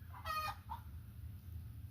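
A hen gives a short burst of clucking calls while laying an egg, two quick squawks near the start against a steady low background hum, then quiet.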